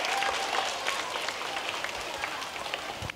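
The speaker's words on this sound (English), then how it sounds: "Give him another big clap." A school audience at a sustainability show applauds with steady, even clapping throughout the short moment, no voices standing out.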